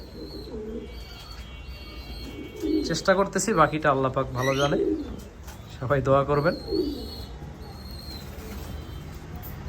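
Red Lahore pigeons coo in low, rolling throaty calls, near and repeated, while a person speaks over part of it.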